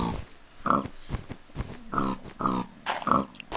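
A Minecraft pig grunts and snorts in several short, punchy bursts, close and fairly loud, with brief pauses between calls.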